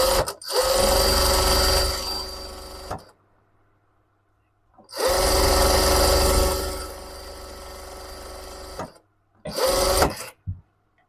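Sewing machine stitching through fabric with small, fine stitches along a marked line while shaping a baju kurung neckline, running in three loud steady bursts separated by brief pauses, the last one short.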